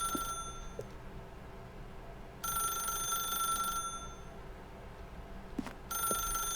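A telephone rings in The Stanley Parable video game, two bursts of ringing about three seconds apart over a quiet background hum, with no voices.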